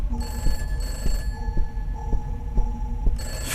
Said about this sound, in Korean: 전화기다 빨리 받아